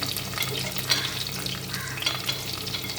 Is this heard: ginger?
yes